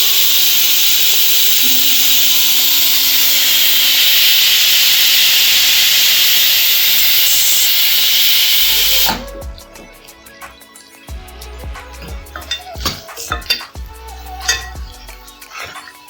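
Onions hit hot oil in a pan for mutton sukka, a loud steady hiss and sizzle for about nine seconds before it drops to quieter bubbling crackle with scattered clinks.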